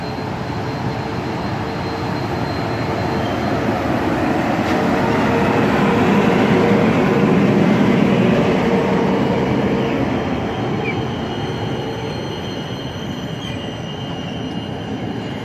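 An EIC Krakus train hauled by an EP09 electric locomotive passes through Warszawa Wschodnia station with a swelling rumble and wheel squeal, loudest midway and then slowly fading.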